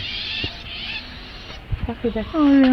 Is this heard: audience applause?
no